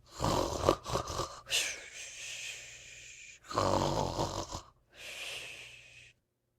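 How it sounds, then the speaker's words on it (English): Someone snores in a slow, heavy rhythm of several long, raspy breaths with brief pauses between them. The snores are close and fairly loud, with a wheezy, nasal edge. "The snores continued."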